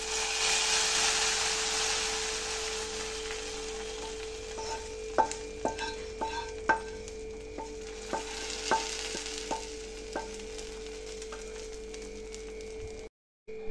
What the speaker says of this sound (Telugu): ఫ్రై చేసుకున్న డ్రై ఫ్రూట్స్ని ఈ పాయసంలోకి వేసుకోవాలి.